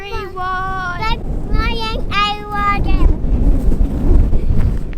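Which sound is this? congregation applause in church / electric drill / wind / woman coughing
wind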